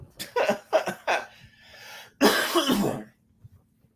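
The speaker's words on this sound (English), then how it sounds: "Sorry about the cough." A person coughs close to the mic, a cluster of three quick hacking coughs followed by a longer, rougher throat-clearing cough, then quiet.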